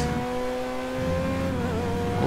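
A Ferrari engine revs steadily in GTA V, a sustained loud mechanical drone with strong harmonic tones that shift pitch as the car drives at speed, with no talking over it.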